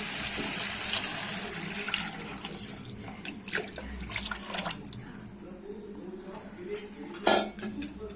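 Liquid pours and splashes into a metal pot amid clinking cookware, with a sharp clank near the end; steady moderate level throughout.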